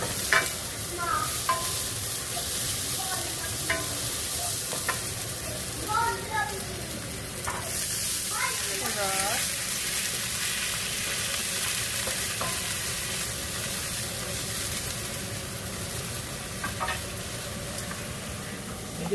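Scallion whites stir-frying in a pan for a Chinese New Year dinner, a steady sizzle with repeated scraping stir strokes throughout, with faint talk in the background.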